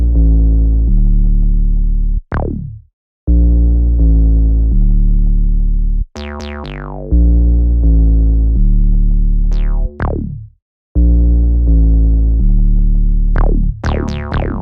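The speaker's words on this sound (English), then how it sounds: "And then underneath we have these response 808s." Alien-like programmed 808 bass response patterns play sustained deep tones that bend and slide downward in pitch, broken by short pauses, loud and with no talking.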